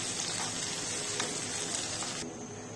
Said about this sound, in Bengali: পেঁয়াজটাকে আমি রিং রিং করে এভাবেই কেটে নিয়েছি এখন হালকা একটু ভেজে নেব তেলের মধ্যে